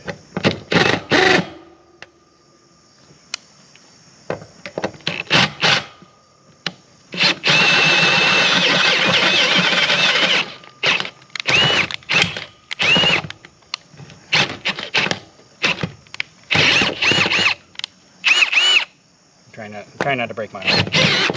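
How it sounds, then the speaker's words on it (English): A power drill bores out bolt holes to half an inch while installing a car trailer winch, whining in long loud bursts separated by short pauses, with someone talking between runs. "I'm going to drill these holes out a little more to half inch"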